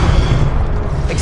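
A Confringo blast spell from Hogwarts Legacy on PS5, a loud, heavy low boom with rumbling bass that holds steady, heard alone without any talking.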